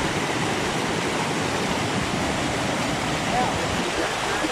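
Glacial meltwater cascades down in steps near Kalam, a constant loud rushing roar like a waterfall, steady and close throughout.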